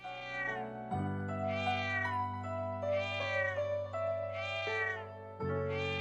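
Cat meowing in the video game Trails of Cold Steel II, a series of drawn-out, loud meows repeating over a steady low musical drone, with no talk.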